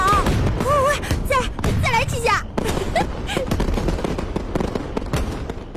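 Fireworks bang and crackle in rapid bursts while whistling rockets rise, with voices and cheering mixed throughout.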